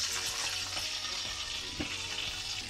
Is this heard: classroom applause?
no